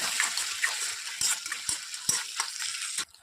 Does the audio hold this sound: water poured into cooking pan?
yes